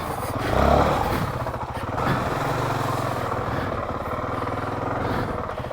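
Honda CRF450RL dirt bike engine ridden on rough, unmaintained off-road roads in Ohio, a steady buzzing drone with a loud rev surge early on and a second swell, close and continuous.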